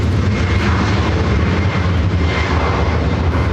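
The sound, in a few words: Starlux Airbus A350-900 jet arriving from Taipei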